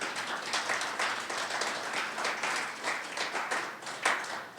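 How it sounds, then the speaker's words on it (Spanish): A church congregation applauding: dense, sustained clapping from many hands filling the room, steady and fairly loud, with no talk over it. "Esto merece un fuerte aplauso para el Señor."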